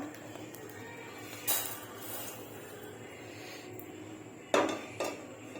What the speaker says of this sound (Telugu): వీటిని కూడా ఇప్పుడు ఒక ప్లేట్లో పోసుకుందాము మనం